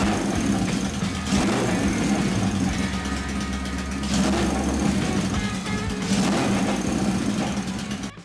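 A chopper motorcycle engine with a leaking exhaust gasket runs at a steady idle, a close, loud, continuous rumble with uneven ticking pulses and slight surges throughout.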